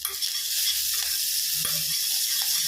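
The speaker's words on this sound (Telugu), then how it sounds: "ఆనియన్స్ ఇలా మగ్గాలన్నమాట, ఎక్కువ మగ్గొద్దు." Onions with turmeric for chicken pakodi sauté in a pan with a steady, close sizzle, as light stirring scrapes and taps occasionally cut through.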